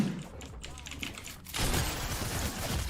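Gunfire in a video game wager match, heard as a fast burst of rapid shots that grows louder and denser midway, with a voice talking over it.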